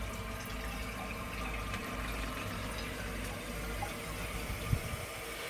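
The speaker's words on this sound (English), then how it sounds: "Now this has a nice flush to it." A rare 1957 Dresden blue Universal Rundle toilet flushing, a steady close rush of water filling and draining without pause, with no talk over it.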